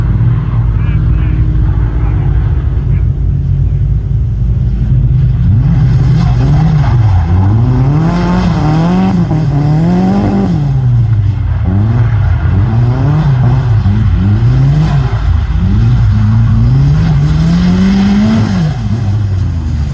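A turbocharged KA24DE engine in a Nissan 240SX screams and revs up and down through repeated gear shifts on a race track, loud and close, with a voice talking over it.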